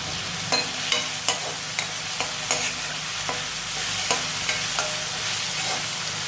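Onions and curry leaves sautéing in sesame oil hiss steadily while a ladle taps and scrapes the pan at regular intervals, close and alone.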